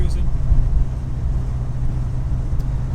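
A 1931 Buick Series 60 sedan's straight-eight engine cruises in third gear at about 35 mph, giving a steady low droning hum with constant road rumble and no clear breaks.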